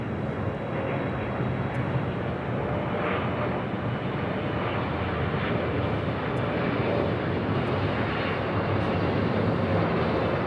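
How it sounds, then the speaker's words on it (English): An EVA Air Boeing 777-300ER arriving at Los Angeles International Airport, a steady broad engine roar that holds at moderate loudness throughout, heard from a distance with no voices. "let's head to Eva Air Flight 12, 777 at 300 ER"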